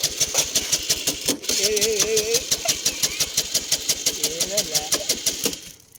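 A motorcycle engine sputters into life and settles into a steady rhythmic thumping, with a voice briefly heard over it before it cuts off.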